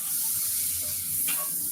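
Two sprigs of rosemary sizzling in melted butter in a pan, a steady close hiss with faint crackle, alone and unbroken throughout.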